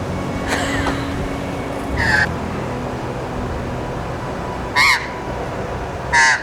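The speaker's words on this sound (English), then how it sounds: "These magpies, man." Magpies give a few harsh, rasping chattering calls in short separate bursts over quiet outdoor background noise, with no talking.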